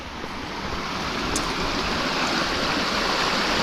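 A river flowing during the first signs of an approaching typhoon, heard as a loud, steady broadband rush of water that continues unbroken throughout.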